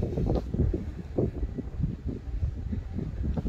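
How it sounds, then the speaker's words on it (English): Wind gusting across a large forward-facing balcony on the Norwegian Prima cruise ship, a loud continuous low rumble of microphone buffeting that surges and eases throughout. "Very windy up here."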